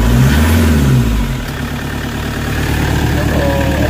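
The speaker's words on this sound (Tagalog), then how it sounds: "Kaya maririnig nyo, start pa lang, malakas yung knocking." Toyota HiAce engine with fault codes P0087 and P0107 runs with a knock: a loud, steady low rumble close by that eases slightly after the first second and a half.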